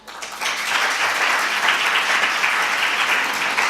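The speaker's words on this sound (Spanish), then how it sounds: "¿Podéis aplaudir, por favor, quienes creáis que es verdad?" A live conference audience breaks into steady, dense applause that swells within half a second and holds at an even, loud level to the end, with no voices over it.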